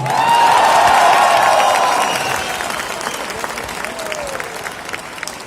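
Audience applause and cheering at a stage event, loud and dense at first, then thinning into scattered claps and a fading crowd murmur.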